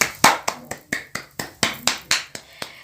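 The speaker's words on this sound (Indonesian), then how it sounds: "Tepuk tangan dulu dong semuanya untuk Mark." A classroom of children applauding, about a dozen short, sharp bursts of claps in a loose rhythm, close and fairly loud.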